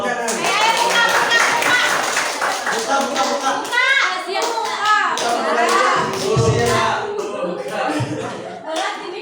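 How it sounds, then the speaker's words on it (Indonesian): Audience clapping at a positive-culture workshop, steady and fairly close, mixed with children's voices and chatter throughout, with a few chuckles near the end. "tepuk tangan"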